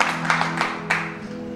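Congregation clapping during a church service, a short burst of scattered hand claps fairly close, with a low steady hum beneath.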